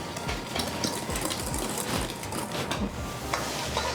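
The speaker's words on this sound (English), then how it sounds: "now I'm just gonna whisk this together until it's just evenly incorporated" Dry cake ingredients for a Black Forest cake, flour, baking soda and salt, whisked together in a bowl, giving a steady busy scraping and rattling with rapid repeated strokes, fairly close and continuous, with no talk.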